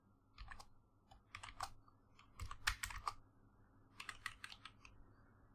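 Python code being typed on a computer keyboard, with quiet clusters of quick key clicks in short bursts separated by brief pauses.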